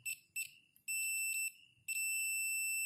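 Sanwa PM-3 multitester continuity beeper giving short high-pitched electronic beeps: two quick chirps, then a sustained tone, a pause, and another long steady tone, close and alone.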